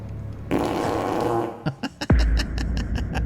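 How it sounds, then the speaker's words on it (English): Comedic fart sound effects dubbed over a scene from The Dark Knight: a long, loud sputtering blast, then several short separate toots and a final low rumbling burst, with film audio underneath. "Let's see what the Dark Knight would be like with farts."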